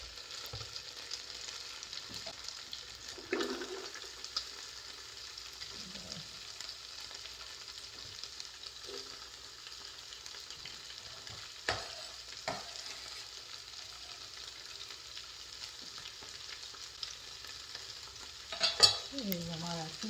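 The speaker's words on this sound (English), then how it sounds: "I'm going to add a little more avocado oil, and I'm going to put my onions on one side" Onions fry in avocado oil beside stirred meat, a faint steady sizzle under occasional soft scrapes and clinks of a utensil against the pan.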